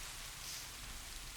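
Heavy monsoon rain during a storm pours down as a steady, dense hiss with a low rumble underneath, continuous and even throughout with no voices.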